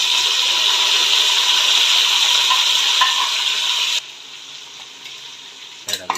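Tomatoes hit hot oil in a pan for chicken pulav, producing a loud, bright sizzle that drops sharply after four seconds to a quieter fry, followed by a brief clatter at the end.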